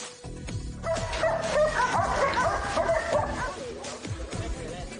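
German shepherd named Rambo barking close by, a run of excited woofs and yips with whimpering tones, loud and steady across the clip.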